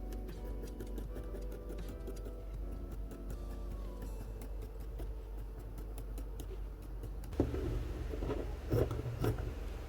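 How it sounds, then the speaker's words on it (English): Scissors snip through fabric along a traced neckline for an asymmetric collar, giving soft repeated ticking cuts in a quiet room, with a few louder handling clunks toward the end. "Then we cut out the main neck that we initially traced out."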